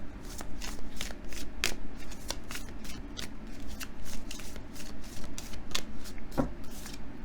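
A deck of cards is riffled and shuffled repeatedly in quick bursts, crisp and close, with no voices.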